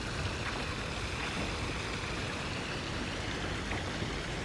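Small park stream flowing steadily, a constant close wash of trickling water with no breaks and no voices.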